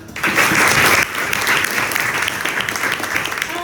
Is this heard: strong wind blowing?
no